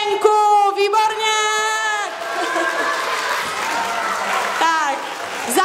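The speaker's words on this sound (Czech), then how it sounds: "zatleskejte naší úžasné řepě a všem hercům" An audience applauds the child actors after a children's play of the giant turnip tale, a steady wash of clapping under loud, excited voices and shouts that rise and fall throughout.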